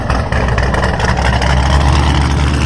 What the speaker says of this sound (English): Sorry for all the loud noises. This is a car show. Folks are idling by.